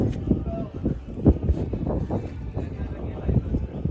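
Strong wind gusts buffet the microphone outdoors on a rain-wet lookout over the city of Shimla, a continuous low rumble with louder blasts, while no clear speech stands out.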